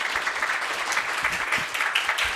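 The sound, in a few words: audience applause for the speaker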